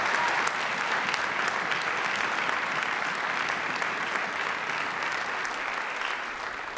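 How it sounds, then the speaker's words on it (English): Sustained audience applause for student musicians at a high school winter concert, a dense steady wash of many hands clapping at close range that continues without pause and fades only slightly near the end. "Let's give them all a round of applause again."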